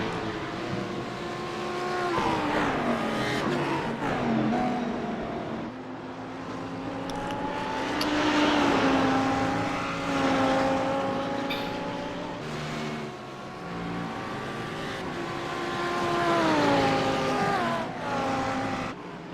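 Audi race cars lap Watkins Glen in a racing video game, engine tones rising and falling through shifts and braking, fairly steady and moderately loud, with occasional overlapping car notes.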